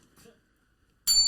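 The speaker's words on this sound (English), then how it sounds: "That delay in the plug bell that you heard" A stream plug bell sound effect arrives as a bright metallic chime at the end, loud and ringing, after a moment of near silence with faint murmuring.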